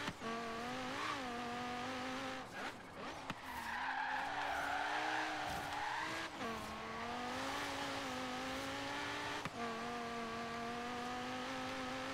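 A car in the Forza Horizon 3 racing game skids for a long stretch, with a sustained tire squeal sliding up and down in pitch over steady engine noise, with no talking.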